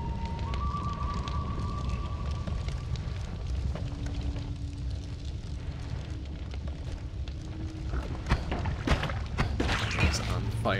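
Fire burning in the roguelike game Noita, a dense continuous crackling roar held for the whole stretch, with sharper pops and bursts building toward the end, steady and fairly loud.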